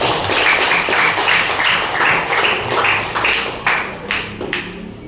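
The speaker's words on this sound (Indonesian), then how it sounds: "Tepuk tangan dong." Applause from a class, steady dense clapping that continues for several seconds, thinning slightly toward the end.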